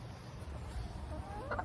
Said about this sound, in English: Here's a chicken that wants to come inside.